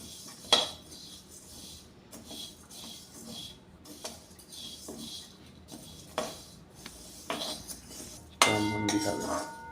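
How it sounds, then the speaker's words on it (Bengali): A dry spice mix for fish bait is heated without oil and stirred in a pan, giving sparse metallic scrapes and clinks of a utensil against the pan, one louder clatter near the end. "জাস্ট গরম করে নেড়ে ঝাড়িয়ে নিচ্ছি"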